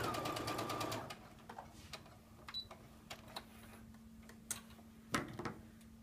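A sewing machine stitches along a diagonal line on a quilt block, a busy rapid run for about a second, then quieter intermittent ticks and short bursts over a steady low hum, with one louder burst near the end.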